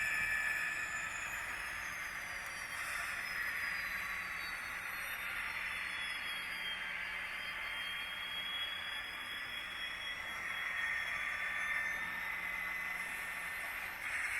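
HO scale model diesel locomotives, SDL39, RS3 and SD45 units, hum and hiss through a shutdown sequence, with a steady noisy drone and slowly gliding high whining tones, continuous and moderately loud with no talk.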